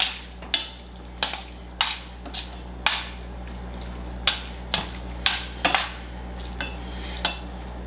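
Garlic powder and black pepper being mixed in a bowl for chicken burritos: a spoon clinks and scrapes in roughly a dozen sharp, irregular taps against the dish, close and fairly loud with no talking.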